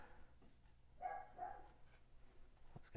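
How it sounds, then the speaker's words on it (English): A poodle barks in the background indoors, two short, muffled barks close together, faint and somewhat distant over a quiet room hum. "my dog barking in the background"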